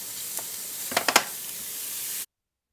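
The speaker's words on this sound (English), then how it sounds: "We're gonna give this a stir, and we're gonna turn the temperature down a little bit so we don't have any burning." Garlic sizzling in a pan with a soft continuous hiss, broken by a quick cluster of three or four scraping stirs near the middle before the sound cuts off.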